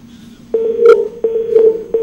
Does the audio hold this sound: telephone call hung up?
yes